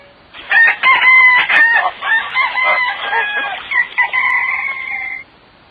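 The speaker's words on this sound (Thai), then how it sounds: "เสียงไก่ป่าขันอยู่เจื้อยแจ้ว" Wild junglefowl crow loudly and repeatedly, overlapping calls ringing out nearby, with some clucking mixed in.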